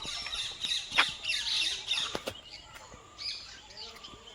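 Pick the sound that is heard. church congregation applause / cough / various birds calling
various birds calling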